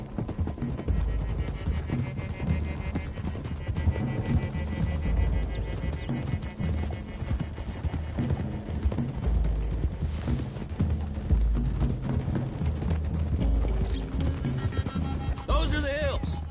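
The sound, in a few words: horses galloping in Red Dead Redemption 2 video game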